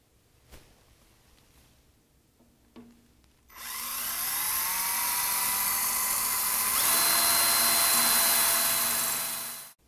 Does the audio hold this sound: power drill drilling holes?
yes